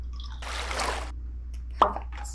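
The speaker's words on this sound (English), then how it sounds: "pour the colored water into the powder tubes" Colored water poured into tubes of snow powder, a short burst of soft trickling followed by a quiet pause and a sharp drip or plop, heard alone in a quiet room.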